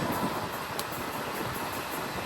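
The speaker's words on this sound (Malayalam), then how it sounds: "ഇവിടുന്നൊരു ട്രെയിൻ ഓവർടേക്ക് ചെയ്യുകയാണ്." Steady rumble and rush of the Coimbatore–Mangaluru Central Express overtaking at speed, heard from a passing train as a continuous broadband roar with no voices.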